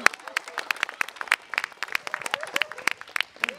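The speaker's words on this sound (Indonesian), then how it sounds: "Kasih tepuk tangan dulu dong." Scattered, distinct claps from an audience at a comedy roast, popping in an uneven patter for a few seconds while voices murmur and talk through them.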